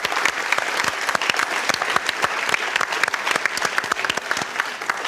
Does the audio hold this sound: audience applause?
yes